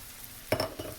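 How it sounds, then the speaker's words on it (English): Fresh baby spinach drops into a hot pan and sizzles, with a brief burst of frying crackle and stirring, close and fairly quiet, no voices. "Now I'm going to add my fresh baby spinach."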